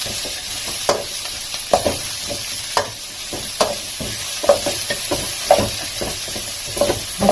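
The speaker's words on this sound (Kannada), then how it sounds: "ಹಸಿ ವಾಸನೆ ಹೋಗೋವರೆಗೂ ಹುರಿಬೇಕಾಗತ್ತೆ" Turmeric frying in a pan with steady sizzling, while a utensil scrapes and taps against the pan in a regular stirring rhythm, close and fairly loud.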